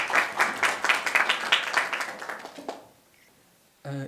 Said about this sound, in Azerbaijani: Qurucu üzvlərimizi də alqışlayaq.